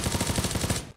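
Rapid automatic gunfire aimed at running enemies in the mobile shooter game Knives Out, a single loud sustained burst of evenly spaced shots cutting off abruptly after about a second.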